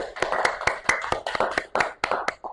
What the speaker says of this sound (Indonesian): kalau luar biasa tepuk tangan dulu dong